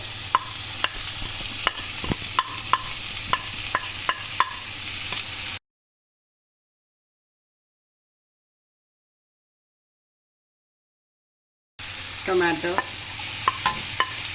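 Capsicum and carrot stir-frying in a pan for chicken spaghetti: a steady sizzle with repeated spatula scrapes and taps, broken by a long stretch of silence before the frying resumes.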